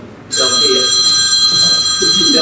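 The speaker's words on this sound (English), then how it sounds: "phone rings" A telephone starts ringing after a brief quiet moment, a loud, steady electronic ring that holds for about two seconds, with faint voices in the background.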